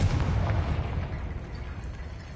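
A Confringo fire spell explosion in Hogwarts Legacy: one loud, low rumbling blast that starts at full force and slowly decays over about two seconds, with no talking.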